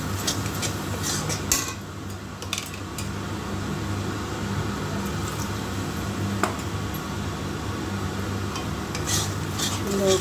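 A spice masala is stirred and fried in a pan, a steady low sizzle running throughout with occasional spoon scrapes and clinks against the pan.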